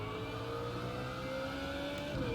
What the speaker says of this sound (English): you're going to hear my engine coming to the headset